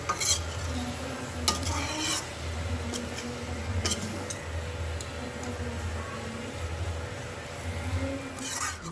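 Soybean and spices with curd frying in hot oil in a kadhai, stirred continuously with a spoon scraping the pan, with a steady sizzle and occasional sharp metal clinks, close and alone.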